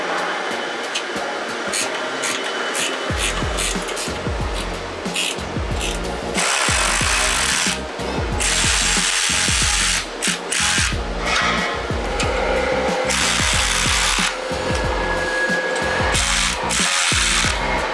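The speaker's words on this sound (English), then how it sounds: "Using a 14 millimeter wrench or socket, what we're gonna do is tighten the bolts on each side of these flanges." Exhaust flange bolts being tightened with a 14 mm wrench or socket while installing a catback exhaust on a third-generation Toyota Tacoma 3.5L, loud rapid ratcheting clicks in repeated bursts with brief pauses, close and unaccompanied by talk.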